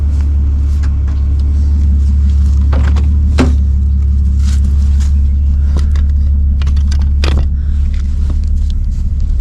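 Old car on a test drive, a steady loud engine rumble with scattered clicks and knocks from the cabin, no talk.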